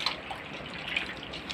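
Goat liver being rinsed in salted water for Eid kaleji, with soft close splashes and drips of water, low and steady with no voices.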